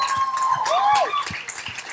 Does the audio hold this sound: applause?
yes